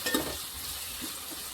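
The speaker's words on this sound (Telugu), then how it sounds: "ఇప్పుడు దీంట్లోకి బెండకాయ ముక్కలు, టమాటా ముక్కలు యాడ్ చేసుకుందాం" Okra and tomato pieces drop into a hot frying pan, giving a short burst of sizzle that settles into a steady, close-up frying hiss with a few light clinks.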